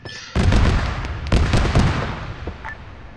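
Mortar rounds exploding in a military operation, two heavy booming blasts about a second apart, the first sharp and loud, each rolling off into a long rumbling decay, with no voices.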